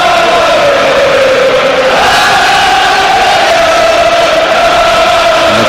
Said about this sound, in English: Crowd responding in kind